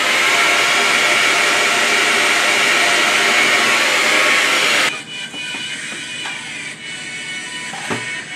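A hair dryer blows on high, a loud, steady close-up roar for about five seconds before it cuts off, leaving quieter room sounds and faint handling noises.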